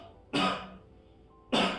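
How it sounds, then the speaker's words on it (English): Two short, sharp coughs about a second apart, close and moderately loud, with quiet in between. "And then, when you cough,"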